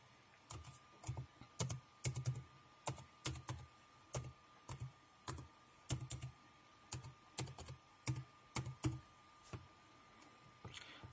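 Password typed on a computer keyboard, a run of distinct key clicks in irregular bursts, close and clear over a faint steady hum.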